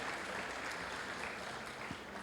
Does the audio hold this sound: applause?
yes